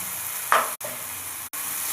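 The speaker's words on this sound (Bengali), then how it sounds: "খুব সুন্দর করে ভেজে নিই।" Chili, cumin, ginger, roasted spice powder, turmeric and salt sizzle in a hot pan, giving a steady close frying hiss with a brief scrape of stirring and two short cuts to silence.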